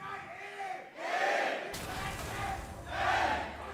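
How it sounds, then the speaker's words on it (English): A large esports arena crowd at an EU LCS Spring 2016 semifinal, Origen versus H2K, chants and roars in rising rhythmic waves that swell twice over the sound of a live broadcast. "as we hear, the crowd still favors Origen"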